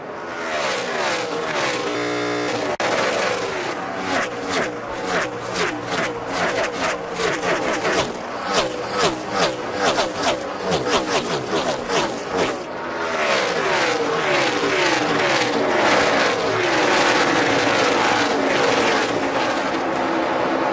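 Race cars roar around the track at the 2012 AAA Texas 500, engines loud and near, with pitches sweeping up and down as cars pass in steady succession and a brief dip before the noise swells again.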